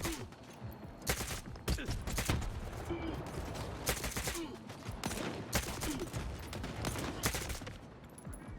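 Enemy gunfire punching through walls in STALKER 2, dense bursts of rapid automatic shots overlapping in a sustained fusillade, loud and continuous with brief gaps, no voices.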